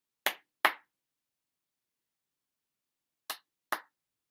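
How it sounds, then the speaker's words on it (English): Four sharp, close hand claps in two quick pairs, with a long silent gap between the pairs. "clap on the sound instead"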